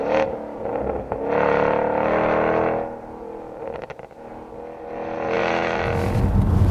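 A Jaguar F-Type sports car set to dynamic mode accelerates and revs, its engine note rising and falling in loud, close surges with a brief dip in the middle, and no speech.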